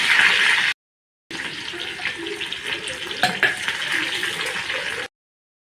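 Chopped onion hits hot oil with mustard seeds in a kadhai on a gas stove, giving a steady bright sizzle and crackle that cuts out briefly, then resumes with some stirring clatter.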